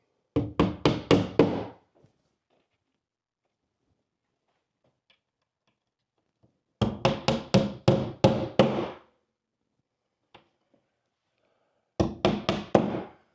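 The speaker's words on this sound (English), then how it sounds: "I could just bang them all in" Rapid bursts of hammer blows driving nails while installing sound paneling, several quick strikes in a row, repeated three times with pauses between, loud and close with no talking.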